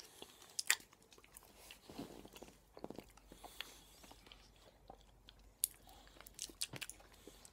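A melted chocolate bar being eaten up close, with soft, sticky chewing and occasional crisp bites coming in irregular bursts with no talking.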